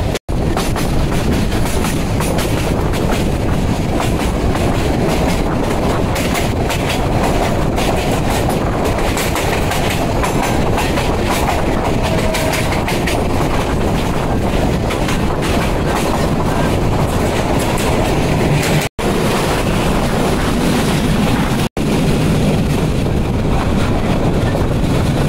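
Parabat Express passenger train running through the forest of Lawachara National Park, heard from on board as a loud, steady rumble with rhythmic wheel clatter and two brief dropouts, with no talking.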